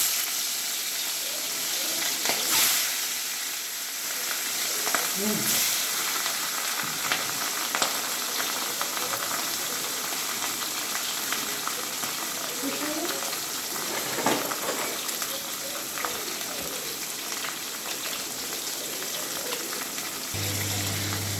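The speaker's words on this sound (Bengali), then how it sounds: "মাছটাকে আমি ভেজে নিচ্ছি প্রথমে।" Katla fish frying in hot oil, a steady, dense sizzle that holds throughout at moderate level, with a few louder bursts and occasional soft utensil touches.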